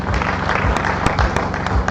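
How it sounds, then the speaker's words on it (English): An audience at a secondary school annual general meeting applauds the headmaster, a steady patter of many hands clapping close by, moderately loud, with no talk. "Please clap for him."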